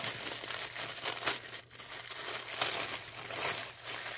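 Paper packaging being ripped and torn open by hand: a continuous run of close, loud crinkling and tearing that carries on without a pause, with no voice over it.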